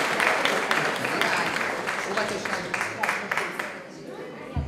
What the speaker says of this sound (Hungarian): Megérdemelnek még egy nagy tapsot az óvodások